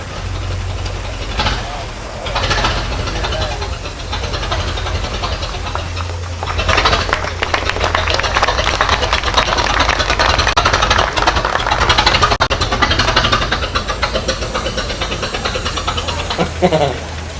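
A 1908 Sears runabout with a 2-cylinder, 10-horsepower engine runs steadily through its muffler at an old car festival, a continuous low throb beneath crowd noise and nearby voices.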